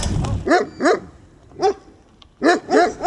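Dogs near ancient ruins in rural Turkey bark loudly and close at passing cyclists, a ragged series of sharp barks in two bursts with a pause between.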